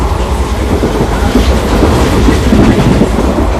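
The West Coast Superfast Express from Chennai to Mangaluru runs at 110 km/h, a loud, continuous rumble of rails and wheels with a steady rhythmic clatter and no voices.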